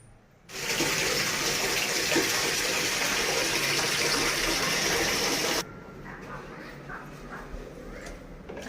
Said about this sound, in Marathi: टाकून येते मी झाडांना पाणी रोज थोडंसं तरी टाकतेच पाणी